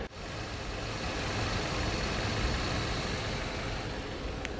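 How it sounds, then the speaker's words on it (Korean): Steady low idle of a Dodge Caliber 2.0 engine, heard with the hood open, with a smooth, quiet hum and a faint high whine, continuous and unchanging throughout. "이 차량 바로 엔진 소리 한번 들려드릴게요"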